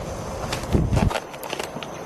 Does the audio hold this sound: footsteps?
yes